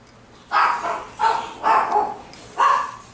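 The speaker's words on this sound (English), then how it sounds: "Oh, those are my puppies. They're seeing something on the road here." Puppies bark at something on the road outside, giving four sharp, loud bark bursts with short gaps between them, heard fairly close with no talk over them.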